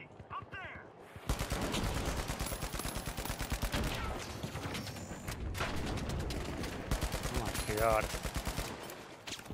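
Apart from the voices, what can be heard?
gunfire from video game The Finals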